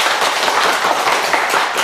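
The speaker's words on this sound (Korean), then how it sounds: "박수해 주십시오" A church congregation applauds at a Sunday worship service as a commemorative plaque is presented to the senior pastor, a dense, steady burst of many hands clapping at fairly close range for just under two seconds.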